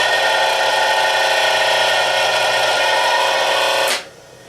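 Three-phase motor running counterclockwise on single-phase power, a loud, steady whirring hum that holds for about four seconds before cutting off abruptly into quiet, with no talk.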